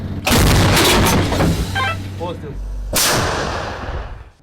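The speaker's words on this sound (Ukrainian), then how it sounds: "Так стріляє польська самохідна гаубиця краб." Two powerful shots from a Polish Krab self-propelled howitzer boom a few seconds apart, each a sharp loud crack followed by rolling echo, with faint voices in between.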